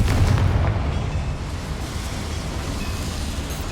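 Confringo fire spell blast in the Hogwarts Legacy video game, a loud booming burst at the start that rolls into a sustained rumbling decay.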